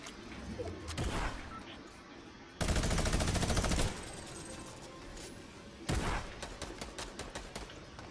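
Bursts of gunfire from a sniper-and-gun match in a video game, a brief shot near the start, then two loud dense volleys around the middle and end, with quieter ambience between.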